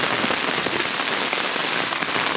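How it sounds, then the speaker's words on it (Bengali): Heavy rain pours down at night during a flooding downpour, a dense, unbroken hiss of drops drumming on surfaces, loud and steady throughout. "মুষলধারে বৃষ্টি হইতেছে আজকে রাতের ভিতরে"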